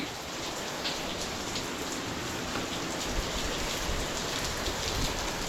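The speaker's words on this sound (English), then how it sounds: "Looks like it's raining pretty hard now." Heavy rain pours down steadily and loudly outdoors, a dense continuous hiss of drops striking surfaces with no talk over it.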